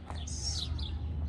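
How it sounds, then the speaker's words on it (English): Birds chirp and tweet in a quiet residential neighborhood in Helsinki, Finland, a bright, steady run of calls close by over a low outdoor hum. "You can hear the birds."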